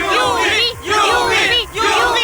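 A large outdoor crowd of fans cheers and shouts in heavy rain, gathered to catch a glimpse of a film superstar; the roar swells in loud repeated waves with brief dips between them.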